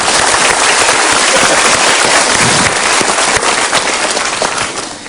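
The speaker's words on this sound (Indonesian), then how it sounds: "Oke, kita berikan tepuk tangan, oke." A large seminar audience at a motivational talk on anger management bursts into loud, dense applause that fills the room, then eases off slightly near the end.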